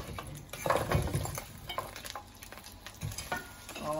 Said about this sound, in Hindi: और इसको अच्छी तरीके से हम फ्राई कर लेंगे